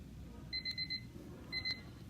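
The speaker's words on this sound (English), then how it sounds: "I'm going to set the timer for 5 minutes" Kitchen-style timer alarm beeping in two short bursts of rapid electronic beeps, each lasting about half a second, with a gap between them, moderately loud over a steady low room hum.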